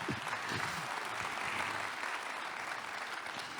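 A conference audience claps at the close of a talk, a soft, fairly distant wash of applause holding steady at low level, with faint voices beneath it.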